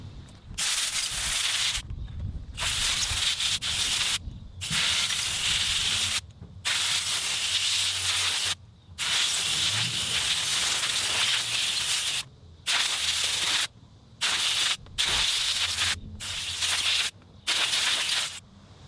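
An air compressor nozzle blows dust out of a tractor part on a Summit TX25 tractor, giving loud, close hissing blasts of varying length separated by short silent pauses.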